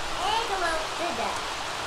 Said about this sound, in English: wet rain.